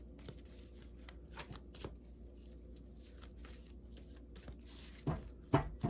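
Oracle cards being shuffled by hand in a quiet room, with soft irregular riffling and flicking bursts that grow a little louder toward the end.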